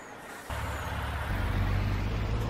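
A truck in Farming Simulator 19 rumbles with a steady low engine drone that kicks in, then deepens and grows louder partway through, running alone without any talk.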